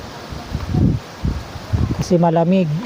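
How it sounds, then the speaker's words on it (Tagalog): Strong gusts of wind rustle the leaves outdoors in steady broadband noise, with someone speaking over it throughout and a brief tonal voice sound near the end. "ngayon biglang lumakas yung hangin"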